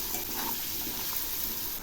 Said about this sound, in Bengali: এখন আমি কাঁঠালের বীজগুলো খুব ভালো করে ভেজে নেব।